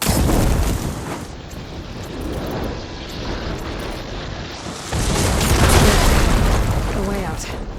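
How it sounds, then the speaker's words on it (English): Blaze barrels blown up by fire ammo in Horizon Forbidden West let out deep rumbling booms, a heavy roar at the start and a second loud swelling blast later, with a voice speaking among the noise. "Hitting those blaze barrels with fire ammo should do the trick."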